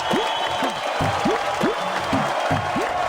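A rally audience claps to welcome the MNA, a steady wash of applause that runs the whole time, with repeated short whistling chirps rising over it.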